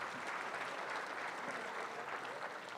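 Audience applause at a university centennial closing ceremony, a dense, steady wash of many hands clapping that holds evenly throughout, moderately loud and unbroken.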